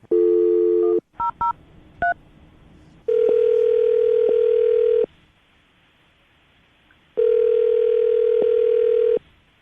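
Telephone call being placed: a short dial tone, a quick burst of touch-tone dialing beeps, then two long ringback tones separated by quiet, clear and close with no talk.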